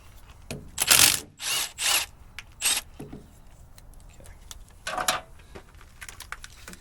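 A ratchet works loose the bolts holding the fuel injection pump on a Bobcat 763 skid steer with a Kubota 2203 engine, giving bursts of close clicking at an uneven pace, some loud and some faint.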